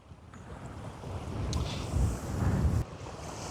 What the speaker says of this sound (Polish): Proszę zobaczyć, jaki, jaki to jest wiatr tu na dole